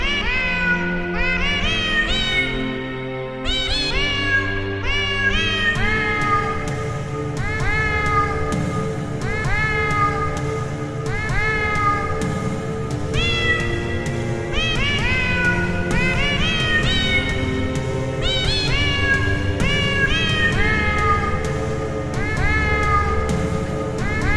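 Cat meows edited into a sung melody of a song, pitched miaows stepping through the tune over a sustained musical backing, loud and continuous.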